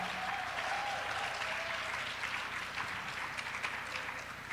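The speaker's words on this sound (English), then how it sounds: "Clap for our folks, clap for our folks." Audience applause at a Black feminist panel event, a steady wash of clapping from a crowd lasting throughout, moderately distant with no voices over it.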